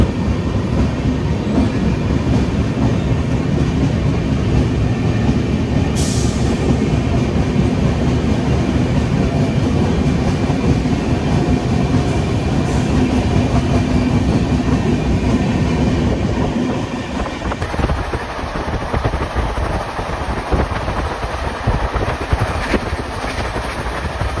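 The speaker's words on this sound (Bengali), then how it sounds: "আর ঝাড়গ্রাম থেকে অলরেডি আমাদের ট্রেন ছেড়ে দিল" The 12814 Steel Express, running from Tatanagar to Howrah just after leaving Jhargram, fills the carriage with a loud, steady rumble and rhythmic clickety-clack that eases slightly toward the end.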